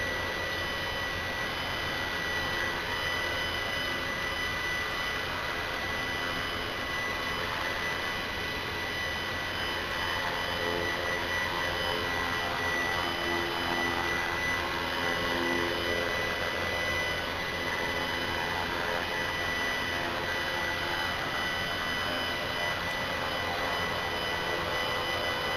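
A Blade 230s RC helicopter flying on a 1000 mAh lipo gives off a steady high-pitched rotor and motor whine. It drones evenly throughout at fairly constant level, with no talking.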